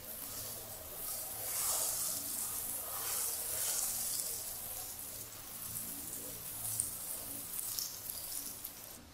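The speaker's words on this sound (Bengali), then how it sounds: "তেলটুকু গরম হয়ে যাওয়ার পর ডিম আর সয়াবিনের মিশ্রণটা দিয়ে দিব।" An egg and soybean mixture frying in hot oil, a steady bright sizzle and hiss that holds throughout with gentle swells, no voices.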